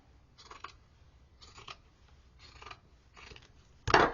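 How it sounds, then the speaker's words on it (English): Scissors cut through the sleeve fabric of a quilt jacket in four evenly spaced crunchy snips, close and quiet, followed by a sharper, louder snap at the end. "I will put my scissors through my sleeve, and my aim is to cut as straight down through this line as I can to my hem."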